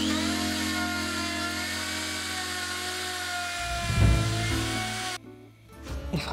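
A power router mills wood while a desk is being rebuilt, giving a steady whining motor hum that rises into a louder cutting burst before cutting off abruptly.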